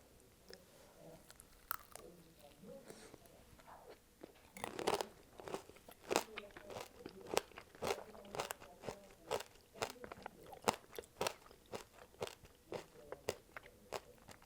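Someone chews a candy-coated grape with a crunchy sugar shell up close, making soft, quiet crackling crunches in a steady rhythm that grows more frequent and sharper as the bites continue.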